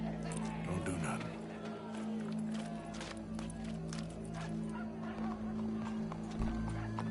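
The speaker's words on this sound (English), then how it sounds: "Go brush that horse, officer." Horse hooves clip-clop steadily in a video game, with a whinny and crowd murmur in the background, under a voice speaking throughout.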